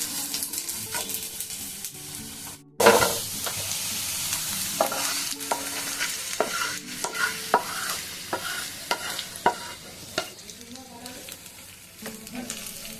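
Pointed gourd (potol) is stirred and fried in a pan with black mustard seeds, giving a close, steady sizzle with repeated spatula scrapes and clicks after a sharp clatter early on.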